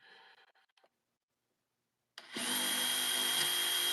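DeWalt power tool switched on during a noise level comparison, a loud steady high whine starting after a brief quiet pause and running on evenly, near.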